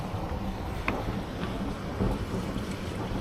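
A sailboat's motor runs in reverse beside a pontoon at Nanny Cay, Tortola, giving a low, steady rumble under heavy wind buffeting and water noise, with no talking.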